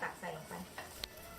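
Chicken is added to a pot of Thai chicken coconut soup and stirred, giving a few quiet, close scraping and swishing strokes with a faint bubbling simmer underneath.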